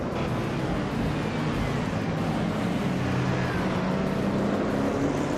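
A 1970 Ford Mustang racing: a steady, loud engine roar that holds without a break, close up and alone.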